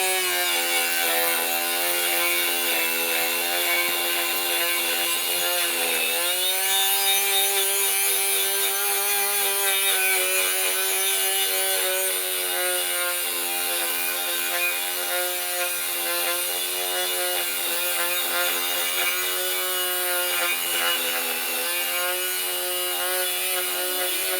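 An engraving machine grinds rust off a sword or knife blade, giving a continuous high whining buzz of steady pitch that dips briefly early on and then holds, with no voices.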